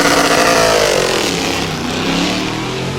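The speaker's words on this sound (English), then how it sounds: "537 horsepower about to be put rubber onto the road, and it's going to be plenty loud." A 537-horsepower race car at an open road challenge event in the Sandhills, 2019, accelerates hard with a loud, continuous engine roar that rises in pitch as it pulls away.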